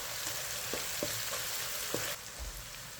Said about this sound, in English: Now add 3 tablespoons fresh tomato puree. Mix and cook for 2 minutes.